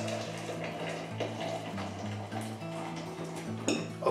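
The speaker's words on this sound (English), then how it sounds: "We're going to pour on 8 pints" Eight pints of boiling water pour into a bucket of redcurrants for homemade wine, a steady rushing splash that runs throughout with a few light clinks near the end.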